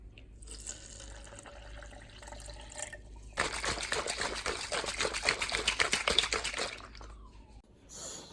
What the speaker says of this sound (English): I'm going to put 2/3 cup water in it, shake it up, let it sit for 5 to 10 minutes